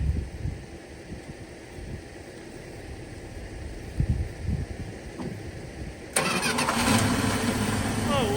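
An abandoned 1979 Chrysler Cordoba is cranked over until its engine catches around six seconds in and settles into a loud, steady idle, with a mid-pitched running hum replacing the earlier rough, choppy cranking.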